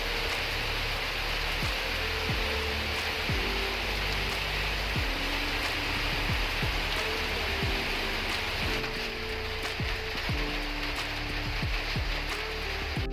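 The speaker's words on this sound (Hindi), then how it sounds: "बारिश के रुकने का अब इंतज़ार करेंगे, अब कभी आगे बढ़ेंगे।" Steady rain falls around a roadside shed on a scooter trip through Himachal Pradesh, a broad constant hiss of drops with low rumbling underneath, continuous and fairly loud, with no talking.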